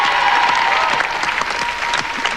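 A television studio audience on a French reality show applauds, a close, loud and sustained burst of clapping with a faint crowd murmur underneath.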